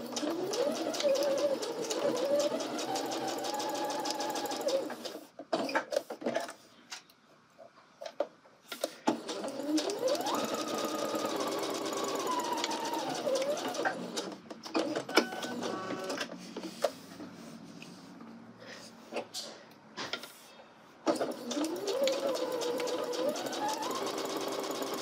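Sewing machine stitching a welt seam with a 5/8-inch seam allowance, whirring runs of rapid needle motion with rising and falling pitch, broken by short pauses and a longer stop, close and clear.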